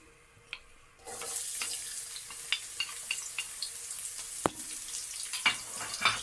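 Chopped onion dropped into hot oil in a frying pan, a steady close sizzle starting abruptly and continuing, with small crackles and pops from stirring scattered throughout.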